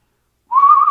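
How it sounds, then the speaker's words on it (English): A single clear whistled note from a jazz record enters halfway through and holds steady with slight wavering, loud and alone against silence. "whistles in a really weird way"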